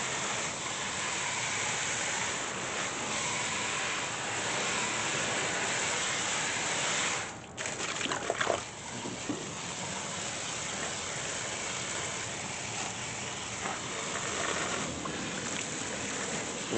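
Water spray washes a dirty AC condenser coil, a continuous close hiss of spraying that drops out briefly midway before resuming steadily with a few splashy spurts.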